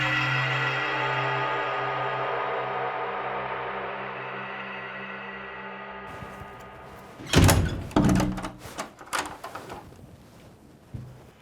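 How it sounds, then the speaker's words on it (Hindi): A door in a Hindi suspense thriller opens with a sudden thunk and clatter after a sustained tonal drone, followed by a few softer knocks and thuds, close and fairly loud. "तुम्हारा दरवाज़ा खुला अभी"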